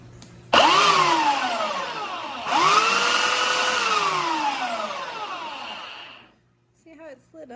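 A Skil belt sander starts up twice with rising whines, then runs at a loud, steady pitch that gradually drops before shutting off, followed by a brief voice.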